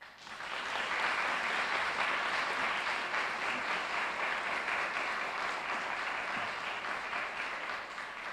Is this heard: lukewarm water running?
no